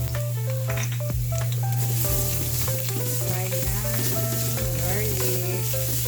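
Garlic sizzles loudly in a frying pan as sauce is started after cooking beef burger steaks, a continuous close crackle with stirring scrapes over a low hum.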